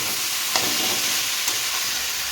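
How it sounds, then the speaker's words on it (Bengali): Potatoes are stir-fried in a hot pan with oil, giving a steady close sizzle and two sharp scrapes of a spatula stirring them. "ভালোভাবে আলুটা কষানো হয়ে গেছে"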